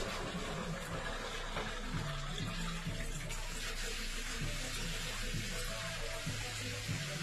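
Water runs steadily from a shower fed by an OOKAS water heater, a continuous faint rushing spray with no clear breaks.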